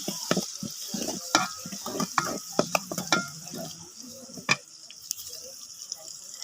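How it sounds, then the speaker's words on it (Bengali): Onions frying in a pan while being stirred, with a soft sizzle under a series of sharp scraping and clacking strokes of the spoon against the pan, spaced irregularly and close by. "তাহলে একটু ভেজে নিব ভালো করে লাড়াচাড়া করে"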